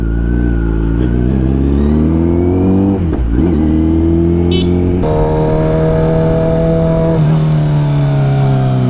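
A Kawasaki Z900 superbike riding on a road in Karnataka, its engine droning loud and close with steady tonal hum, a brief dip and gear change near the middle, then rising pitch as it accelerates again.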